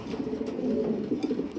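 Egg-laying pigeons kept for sale coo softly and continuously, a low murmuring warble that carries on steadily throughout without any talk over it.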